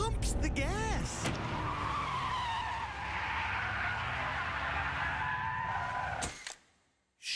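A car pushed hard through a slalom gate at nearly 100 km/h, engine revving up as the tires skid and squeal across the pavement for several seconds before the sound cuts off abruptly, heard loud and fairly close.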